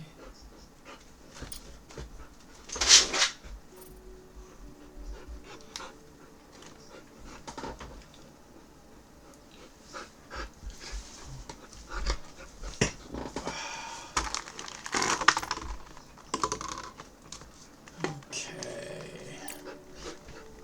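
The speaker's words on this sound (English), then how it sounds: "my dog is demanding attention" A dog whimpers and pants for attention in a home, with short whines and snuffly breaths recurring through the stretch, close and fairly loud, with stray handling noises between them.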